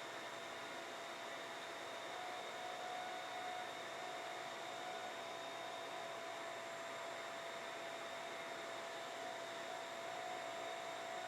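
A shop vacuum pulling through dust collection lines gives a steady, continuous motor whine with a broad airy rush at constant pitch, with no talking.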